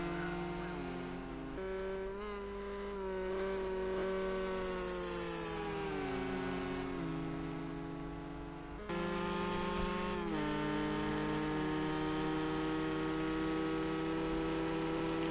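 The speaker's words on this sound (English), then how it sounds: "Let's see what this Porsche can do with a little bit of slipstream." A Porsche GTE race car engine in a sim racing game at Circuit de la Sarthe drones steadily at high revs, the pitch stepping through gear changes and holding long, continuous and close throughout.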